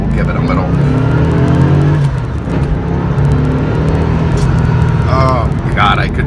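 A 1996 Chevrolet Corvette Collector's Edition with a big V8 and a manual gearbox pulls hard and loud from inside the cabin, a steady low rumble climbing through the revs, with brief bursts of voice near the end.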